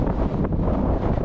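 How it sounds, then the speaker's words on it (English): Strong wind roars across a high mountain summit on Derry Cairngorm in the Cairngorms, a steady, loud buffeting rush that fills the whole moment with no pauses. "It's pretty windy up here"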